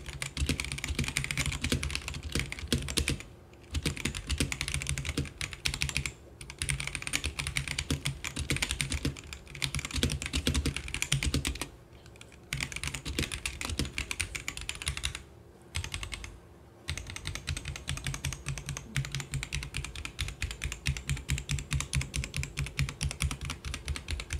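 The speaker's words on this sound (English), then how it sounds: "Now here's a quick sound test with the Gateron yellows." Fast continuous typing on a Womier K87 mechanical keyboard fitted with Gateron yellow linear switches, a dense close-up clatter of keystrokes with a few brief pauses.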